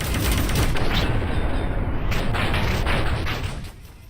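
Dense, continuous gunfire from the VR wave shooter Space Pirate Trainer, a loud steady wall of rapid shots and blasts with electronic whines on top, fading slightly near the end, with no talk.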